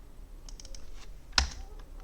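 Soft clicks of a computer mouse and keyboard shortcut keys while working in 3ds Max, a few light taps followed by one sharper click, quiet and close in a still room.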